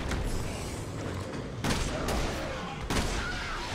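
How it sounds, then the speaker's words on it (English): Sniper fire in Resident Evil 6: a dense, continuous roar of gunfire and explosions, with heavier booming bursts near 1.7 and 2.9 seconds. "We are still being sniped at."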